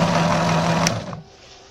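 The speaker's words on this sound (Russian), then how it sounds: "Вот а такой станочек я сделал. Вот он крутится и плетет веревку." A homemade rope-twisting machine spins while braiding rope from videocassette tape, giving a close, steady whirring buzz with a brief high tick, then it stops abruptly and only a faint hum remains.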